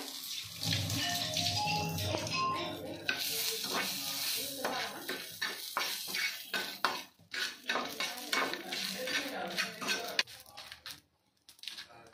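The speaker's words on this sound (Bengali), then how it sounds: "আমি এবার শুকনো লঙ্কাগুলো ভেজে নেব" Dried red chillies fried with a pinch of salt in a pan: rapid, irregular stirring scrapes and metallic clatter over a soft sizzle, close by, with a short pause near the end.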